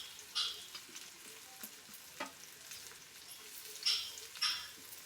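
Onions and green chillies fry in hot oil, a steady soft sizzle with a few sharper stirring scrapes and pops scattered throughout, close and moderately quiet, with no talking.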